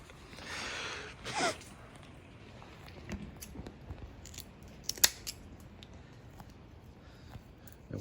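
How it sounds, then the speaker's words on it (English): Kitchen scissors cut a squirrel, giving a few sharp, close snips spread out amid quiet rustling and handling noise, with one louder crisp cut partway through. "The kitchen scissors doing work."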